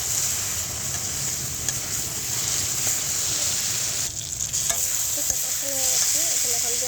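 Chana masala is sautéed in oil, a constant close frying sizzle with soft stirring scrapes and small spatters running evenly throughout, with no voices.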